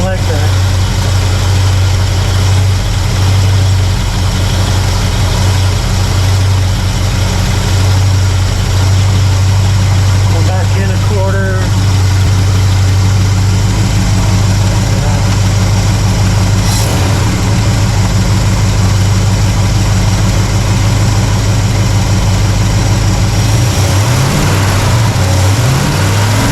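An engine idles steadily and loudly up close during carburetor tuning on a Pontiac LeMans or Chevy C10, its deep, even rumble holding throughout with a slight change in tone near the end.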